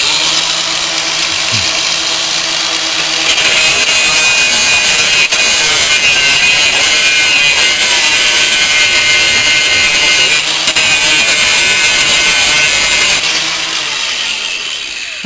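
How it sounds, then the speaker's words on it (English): An angle grinder cuts through a link of a motorcycle chain, a loud, steady abrasive whine that holds for most of the stretch and eases off near the end, with no talking. "Let me just take that one off with grinder."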